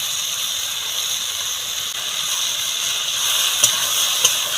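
Ridge gourd fries in ghee with a cup of freshly grated coconut added, making a steady, even sizzle and hiss up close, with two faint clicks near the end.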